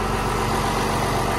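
A truck engine, fitted with an added throttle system and just started, idles steadily and loudly, with a dense low rumble that holds constant and has no talk over it.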